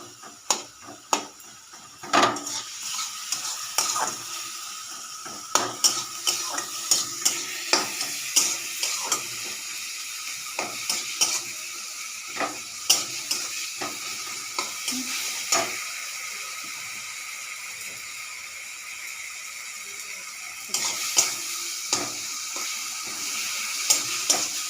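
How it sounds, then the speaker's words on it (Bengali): Masala for bori jhal fries in a pan under steady stirring, a continuous sizzling hiss punctuated by frequent sharp clacks and scrapes of a utensil against the pan, close and unvoiced. "ভালো করে কষিয়ে নিয়ে দেখুন কষা হয়ে এসছে।"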